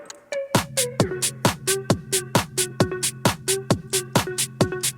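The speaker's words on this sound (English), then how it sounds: "there is this EQ that has a low cut at 120" A future rave intro passes through a thin, low-cut filtered EQ, with punchy, evenly spaced bright synth stabs pulsing in a fast steady rhythm, loud and close with no talking.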